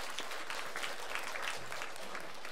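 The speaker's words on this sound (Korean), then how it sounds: "그렇게 역사 행하신 우리 하나님 앞에 영광의 박수 한번 올려드리겠습니다." A Korean church congregation claps together during a Sunday service, producing a fairly quiet, even patter of many hands that continues without a break, with no voices over it.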